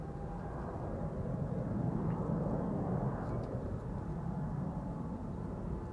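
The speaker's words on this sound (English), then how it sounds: "You can already hear the low growl of the engines of the 200." A 19-year-old KLM airliner spooling up its engines for takeoff at Amsterdam Schiphol gives a steady, distant low rumble and growl that holds evenly throughout with no talk.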